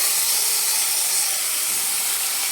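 Mutton rubbed with turmeric and salt goes into a pan of sautéed tomatoes for a spicy dry mutton dish, giving a loud, dense, continuous hiss of sizzling that holds steady throughout without any voices.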